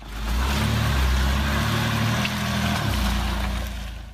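A car pulls away from a lakeside campsite in Sweden, its engine rising to a steady mid-pitched hum, then shifting gear with a dip before droning on and fading slightly at the end.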